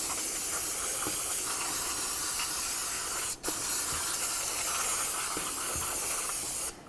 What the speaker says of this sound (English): let's spray down this entire area with some parts cleaner